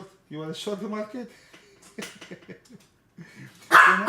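A dog barks once, loud and close, right after someone talks to it indoors.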